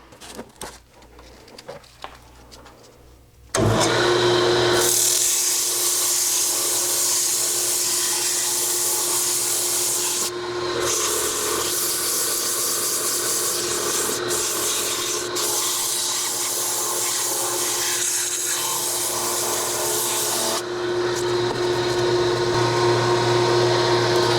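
Sandpaper rubbing against an epoxy-filled, wood-turned bowl spinning on a lathe, working through the grits, gives a steady, loud, close whooshing rasp over the motor's hum for about twenty seconds after a brief quieter start.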